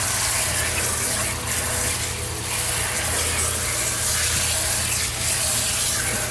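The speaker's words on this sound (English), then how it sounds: "I like to rinse the black extra good because it's just a darker color." Steady running water from a tap gushes and splashes over black-dyed fabric being rinsed in a sink for a spiral dye, a continuous loud wash with small surges throughout.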